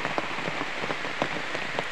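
Steady rain falls on a surface outdoors in a hillside work setting, with dense close patter and scattered louder drops throughout, and no voices.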